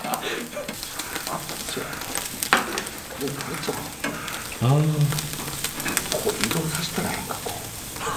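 Eel grilling on a wide net over low heat, sizzling and crackling steadily with light stirring noises, while people chat close by.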